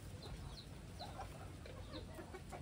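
A rooster gives a handful of soft, short clucks spaced through the moment, heard close against a constant background hiss.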